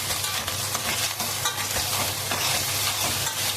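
Ground meat browning in a pan for a Bolognese ragù gives a loud, steady, dense sizzle with a constant low hum beneath, close and continuous with no voices.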